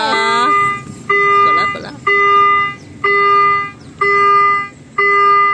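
A steady electronic warning tone from a railway crossing barrier at Surat Thani station beeps in repeated one-second pulses, loud and close, while someone speaks briefly at the start.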